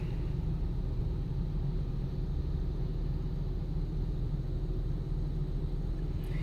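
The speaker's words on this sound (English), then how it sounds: "It's kind of chilly today, so that's why you hear my car running." A parked car's engine idling on a chilly day, a low steady rumble with faint hiss that runs unbroken and even throughout, with no voices.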